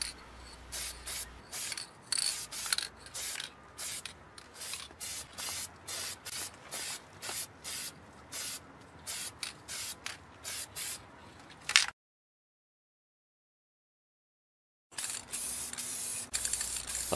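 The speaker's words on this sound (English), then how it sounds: "Now apply our factory matched pearl midcoat." Pearl white midcoat spray paint hissing from an aerosol can in repeated short bursts with brief pauses, close and clear, then a silent gap before more spraying.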